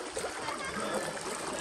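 A small stream of spring water runs steadily at the Acheron springs, a continuous close trickling and splashing rush that holds even throughout with no talk over it.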